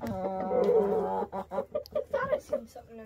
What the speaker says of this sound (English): there's a hen in the box